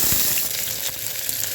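Green chillies, onion, cinnamon, cloves and cumin sizzle steadily in hot ghee in a pan, a close, continuous frying crackle with a bright hiss throughout and no voices.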